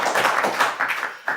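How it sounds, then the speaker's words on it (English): A room of people clapping their hands, a quick bright scatter of claps swelling and fading in short bursts over just over a second. "Clap it up."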